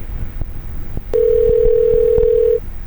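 A loud steady telephone tone sounds for about a second and a half as a TV news program calls an expert by phone, with a few faint clicks around it and no speech.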